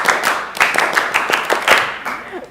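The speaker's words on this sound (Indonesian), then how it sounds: "Oke, tepuk pramuka." A group performs a rhythmic Indonesian scout clap (tepuk pramuka), with crisp hand claps landing in a patterned beat, close and clear over a faint low hum.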